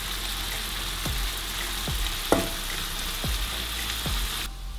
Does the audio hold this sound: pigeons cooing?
no